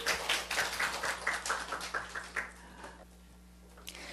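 A church congregation claps in praise during a Sunday service, a run of evenly spaced handclaps that fades out partway through, leaving quiet room tone.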